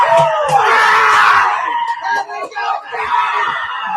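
A child screams in a mother's face, heard as a loud, sustained shriek, then broken yelling and shouting in a noisy room.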